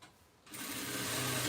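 A domestic sewing machine stitches light fabric, starting with a faint hum that jumps into a loud, steady run of rapid needle strokes after a brief pause.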